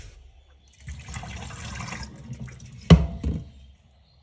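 Water drains and trickles from a batch of soaked bird seed, a steady splashing pour building near the middle, then a louder gush and a few drips before fading to quiet.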